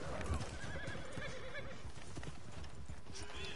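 Horses in the Red Dead Online video game, set in New Austin, clip-clopping close by with a whinny mixed in, the hoofbeats and faint ambience running steadily beneath occasional talk.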